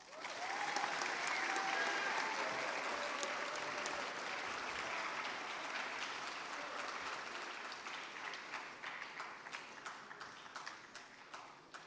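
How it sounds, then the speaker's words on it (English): A robotics team induction ceremony audience gives a long round of applause, dense and loud at first, then thinning into scattered individual claps toward the end. "so can we please get another round of applause?"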